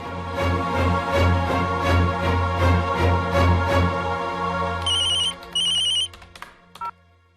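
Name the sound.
phone ringing during a call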